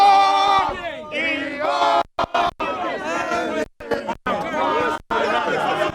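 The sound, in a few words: protesters chanting outside court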